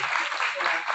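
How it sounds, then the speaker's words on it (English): A brief burst of audience applause greeting an actress on stage at a Juhu event, fairly faint and diffuse, heard as a short wash of clapping lasting under a second. "round of applause for her"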